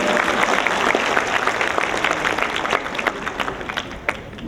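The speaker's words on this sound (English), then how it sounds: "Yeah, applause please," Steady audience applause at an investment seminar, a dense wash of clapping from a crowd that holds for several seconds, with a faint murmur of voices underneath.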